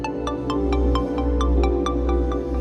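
A phone ringtone plays a bright, repeating melodic pattern of quick tones over a low steady hum, with no voices.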